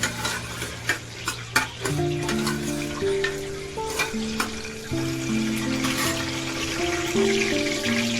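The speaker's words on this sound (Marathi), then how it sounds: "4 इलायची, छान परतून घेऊया." Cardamom, peppercorns and other whole spices sauté in a pan for a vegetarian thali, with steady stirring scrapes and sizzling over a background of sustained musical tones, no talk.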